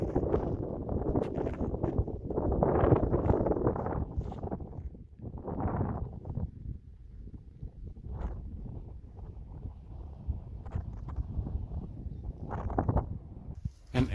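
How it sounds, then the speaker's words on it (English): Wind sweeps through Konorchek canyon in Kyrgyzstan, buffeting the microphone in strong, irregular gusts that swell and fade over a low, constant rumble. "definitely you hear the sound of the wind"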